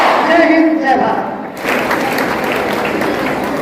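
Audience applause at a school Independence Day celebration, a dense wash of clapping from a large crowd that briefly swells, dips, then continues steadily; a voice is heard at the start.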